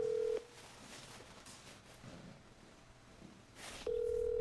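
Telephone call connecting during a Korean radio show segment: a steady dial tone at start, a quiet pause, then the tone returns near the end, with no voices.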